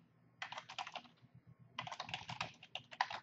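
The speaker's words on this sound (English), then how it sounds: "I'm going to type in the keywords" Keys clatter on a computer keyboard in two quick bursts of typing, close and fairly quiet, separated by a short pause with no voices.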